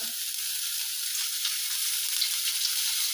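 Ingredients frying in a little oil in a pan, making an even, close hiss that holds steady for the whole stretch without talk.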